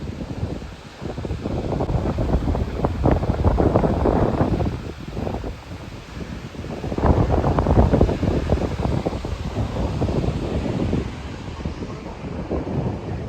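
Water gushes at Thoseghar waterfall during heavy monsoon rain, a loud, continuous broadband roar that surges and eases in waves, with buffeting wind on the microphone and no talking.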